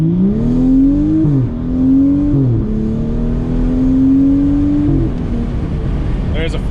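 A Stage 2 Bootmod3-tuned car accelerates hard through a 0-60 mph run, its engine droning loudly and climbing in pitch with brief dips at gear shifts, close and steady throughout.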